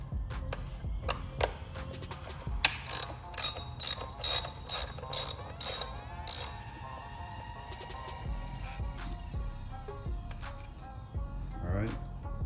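Ratchet turning a valve cover screw on a Mini Cooper R50, a close run of quick metallic clicks in short repeated bursts, then slower clicking and faint mechanical rattles, with someone talking quietly over part of it.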